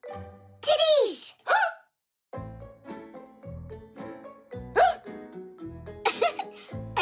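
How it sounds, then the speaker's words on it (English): Cartoon characters hiccup in a children's animated series, several sharp bursts with rising squeaky pitch spread across the clip amid musical tones and voices. "I guess the hiccups are contagious."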